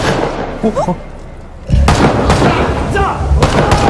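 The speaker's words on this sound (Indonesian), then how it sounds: "terdengar suara tembakan" Sharp gunshots crack amid a noisy scene in the anime Yu Yu Hakusho, a couple of loud bangs with thumps and voices mixed in.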